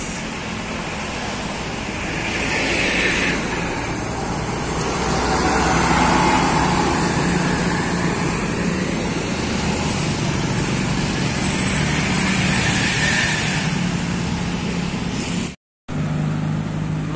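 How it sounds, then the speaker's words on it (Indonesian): A Rian tour bus passing on a road at Galendo, Ciamis, heading west to east: a loud, broad engine and road roar swelling as it goes by amid ongoing traffic, with a brief cut near the end. "Ini dari barat menuju timur, bus Rian ya"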